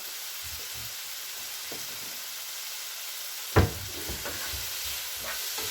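Tandoori chicken filling for pastillas is stirred in a hot pan over a constant sizzling hiss, with soft scraping strokes and one sharp utensil knock against the pan partway through.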